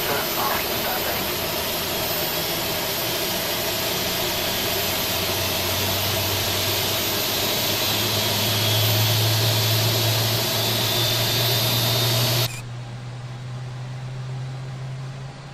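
Aircraft engine running in Microsoft Flight Simulator X during a flight between Mykonos and Skiathos, a steady loud broadband roar and hiss with a rising low drone that cuts off sharply near the end into a quieter hum.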